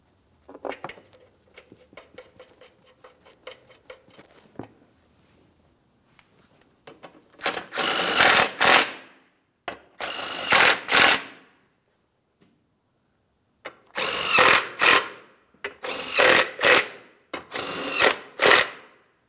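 A power tool snugs up protective shield mounting bolts under a 2007-2014 GMC Sierra 2500 HD 6.0L V8, firing in several short loud bursts separated by pauses after some faint light clicking.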